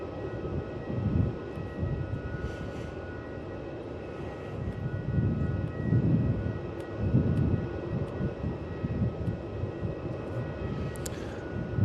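A Cathay heavy jet departs Melbourne Airport, its engines a steady, distant low roar that swells and fades slightly across the clip, with faint tonal hums above and no speech.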